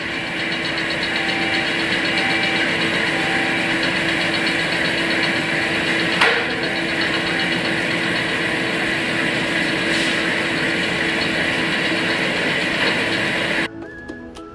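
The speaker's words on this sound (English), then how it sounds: "The cut head is driven by motors to break the soil and the" A tunnel boring machine's motor-driven cut head breaks through soil and rock, making a loud, steady grinding drone that runs unbroken for most of the stretch before abruptly dropping away near the end.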